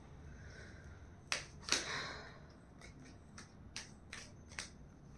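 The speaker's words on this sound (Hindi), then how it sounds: "So let me shuffle the cards" Playing cards shuffled by hand during a tarot-style card reading, heard as a handful of sharp riffling snaps spread unevenly over a quiet room background, moderately faint and with no talking.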